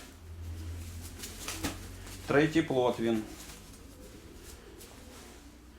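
A 103 pigeon in a breeder's loft lets out a short burst of cooing, several throaty rolling notes close by, between stretches of someone talking with quiet background noise.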